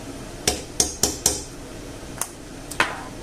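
A metal spoon clinks sharply against a spice jar or pan while scooping pimentón paprika for cooking pork chops, four quick taps followed by two more spaced strikes, close and crisp in a quiet kitchen.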